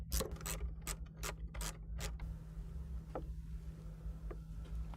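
Ratcheting and clicking of a wrench loosening bolts on a GMC Canyon intake, a quick burst of sharp ticks in the first two seconds, then quieter occasional clinks over a steady low engine-bay hum.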